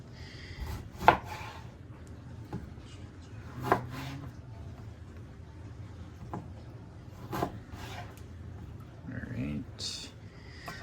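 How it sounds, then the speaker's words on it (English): A knife cuts a lime into quarters on a cutting board for turkey and black bean chili, making a few sharp chops and scraping knocks over steady kitchen background noise. "Now it wants us to quarter our lime."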